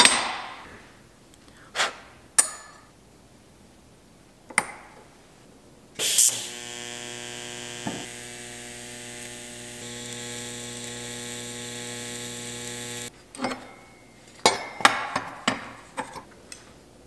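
A custom battery tray for an XS400 motorcycle is welded with a steady electric buzz that lasts about seven seconds. Scattered metallic clanks and knocks come before and after it in a quiet workshop.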